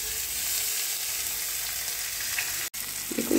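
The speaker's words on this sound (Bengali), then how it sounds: "আমার এগুলো ভাজা প্রায় হয়ে গেছে" Whole spices, chopped garlic and tomato fry in a hot pan, giving a loud, steady sizzle with occasional stirring, alone and without voices.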